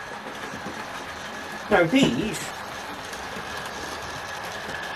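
A Hornby model LMS compound 4-4-0 locomotive, number 3276 with a Fowler tender, runs along model track with a steady rolling hum, while someone talks over it partway through.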